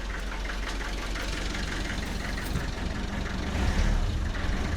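A Land Rover 90 engine, long stood unused and slightly smoky, runs with a close, rough knocking idle and a brief rise in revs toward the end.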